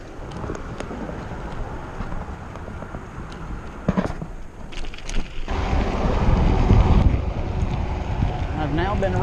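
Wind gusting across the microphone during a mountain bike ride through a forest near a bridge on the Tunnel Hill trail, a steady broadband roar that swells louder and heavier in the second half with brief sharper buffets.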